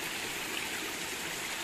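A river stream flows through untouched forest with a steady, even rushing of water, moderately close and uninterrupted.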